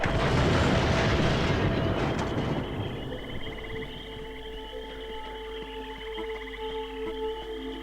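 Dynamite set off with an old-style plunger in a swamp bayou video game: a loud, roaring blast that rumbles for a couple of seconds, then fades into a lingering low tone and ambient hum.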